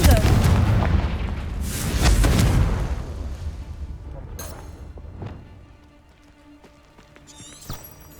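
The Confringo explosive spell cast in Hogwarts Legacy bursts with heavy, rumbling booms and crackling blasts over the first few seconds, then decays into scattered thuds, debris clatter and quieter echoing hits.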